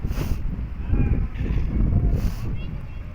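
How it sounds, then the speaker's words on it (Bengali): Strong gusting wind buffets the microphone high on a mountain near Sandakphu, a heavy low rumble rising and falling, with faint voices underneath. "উপরে যেহেতু হাওয়া দিচ্ছিল সেজন্য কথা বলতে একটু অসুবিধাই হচ্ছিল"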